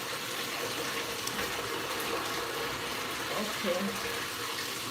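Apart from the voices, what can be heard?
water rinsing deep conditioner out of hair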